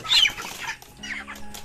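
Broiler chickens on a farm, a brief loud cluck at the start followed by softer scattered clucks and rustling, near and without speech.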